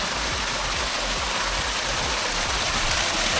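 Dense, steady roar of a waterfall close by near Bhorgiri fort, a continuous broadband rush of falling water with no break or voices.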